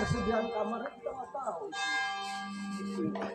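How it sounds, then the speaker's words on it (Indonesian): Church bells of the Basilica of St. Vianney in Ars, France ring with sustained, resonant tones, starting beneath close conversation and then sounding more clearly as the voices pause. "ini lonceng suaranya bagus"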